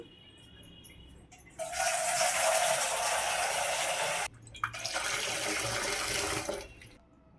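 Water gushes loudly from a tap into a bowl in two long bursts, with a brief pause between them, then stops.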